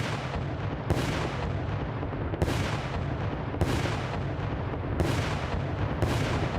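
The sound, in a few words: cannon firing in video game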